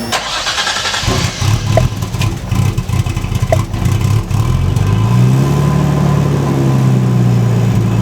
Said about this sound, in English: we're finally ready to start this car and see what it sounds like